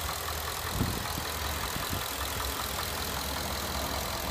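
A 2014 Ford F-150 pickup's 5.0-liter V8 idles steadily with a low, even rumble and faint ticking, close by and continuous, with no voices.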